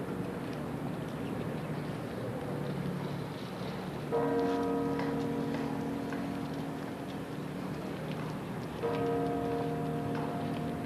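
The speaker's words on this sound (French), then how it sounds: "Et toujours la cloche Salvator, c'est la toute grosse cloche du carillon de la cathédrale, le gros bourdon que l'on sonne dans des circonstances exceptionnelles." The huge Salvator bourdon bell of the Brussels cathedral carillon tolls twice, each deep strike blooming into a long ringing hum over a steady background wash of distant crowd and ambient noise.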